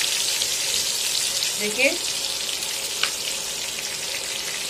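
Eggplant (baingan) for kalonji fries in a pan, a steady hiss and sizzle of oil under someone speaking, with a couple of faint clinks.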